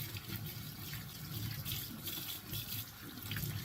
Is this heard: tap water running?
yes